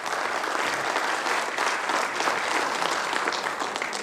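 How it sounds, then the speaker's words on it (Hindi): Steady applause from a large audience at a mega meeting event, dense and continuous throughout with no pauses, moderately loud and even in level. "तालियां बजाइए।"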